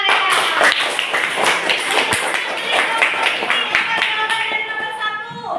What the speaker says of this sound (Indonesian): Ya, tepuk tangan Arehan.